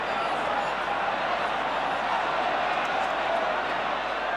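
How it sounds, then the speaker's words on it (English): A football crowd at an FA Cup third-round match between Tottenham Hotspur and Arsenal roars steadily, a broad, continuous stadium rumble with no breaks, urging a player on. "Crowd are urging him to take the ball down to that byline"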